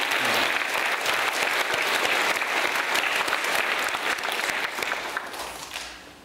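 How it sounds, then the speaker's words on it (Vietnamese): A church congregation at a New Year Mass gives sustained, loud applause for a parish chairman, the clapping dense and even before fading out at the end. "Chúng ta cho ông Chủ tịch Nguyễn Văn Đệ mình một tràng pháo tay thật lớn anh chị em nha."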